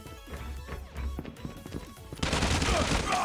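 Hip-fire gunshots in the mobile shooter Call of Duty Mobile, a rapid clatter of shots and impacts in a busy multiplayer match, with a player's voice over the action and a burst of louder noise at the end.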